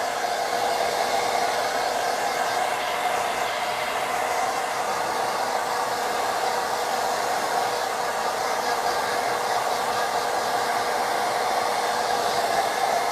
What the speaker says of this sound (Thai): เป่าไปที่โคนขนโคนผมก่อนนะคะ